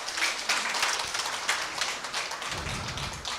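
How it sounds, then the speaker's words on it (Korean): Audience applause at a business seminar hall, a dense steady patter of many hands clapping throughout, with a low murmur of voices rising near the end. "박수 한번 주세요,"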